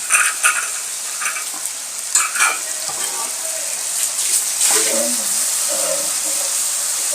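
Green chicken tikka frying in hot oil with masala, a steady hiss and crackle with occasional louder spits and pops, close up and without talk.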